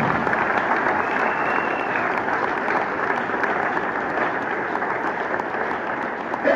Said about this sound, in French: Acclamez l'éternel.